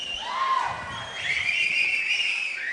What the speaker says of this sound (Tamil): இது வாயில விரல வச்சு அடிக்கிற விசில் இல்ல, இது கமல் சார் மேல உயிரையே வச்சு அடிக்கிற விசில்.